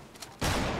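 Gunfire in Fortnite during a tournament match: a quiet moment breaks into a sudden, loud, rapid burst of shots that continues to the end.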